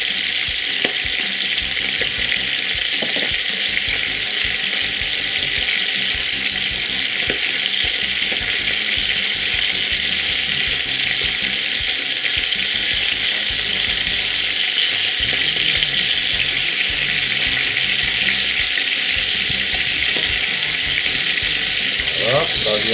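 Chicken liver frying in a pan for a chicken dish with chayote and calabash, a loud, constant close sizzle and hiss with scattered scraping and clicking from stirring running beneath it.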